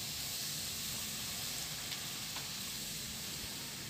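Coke is poured into a hot pan for buffalo wings, giving a steady, even sizzle and hiss throughout, close and moderately loud with no talk.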